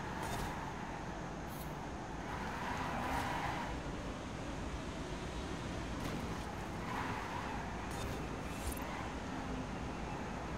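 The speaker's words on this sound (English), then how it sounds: "it's so weird driving these new electric cars in Forza. These are so quiet." Electric car driving in the Forza racing video game, a quiet steady whoosh of road and wind noise with no engine roar, continuous and even throughout.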